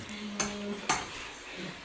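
Metal bowls and dishes clink and clatter in a kitchen, with two distinct clanks close by and a faint ringing tone after the first.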